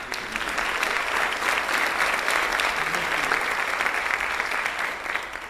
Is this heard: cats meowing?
no